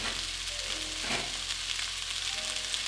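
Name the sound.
vegetables stir-frying in a pan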